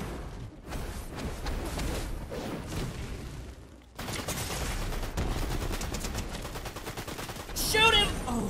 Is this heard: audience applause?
no